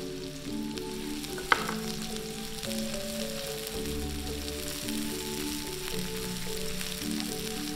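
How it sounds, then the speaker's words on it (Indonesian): Eight thinly sliced shallots and three garlic cloves sautéing in a pan, giving a steady, soft crackling sizzle with a faint clink near the start and no voices. "Kita tumis bawang merah 8 siung dan bawang putih 3 siung yang telah"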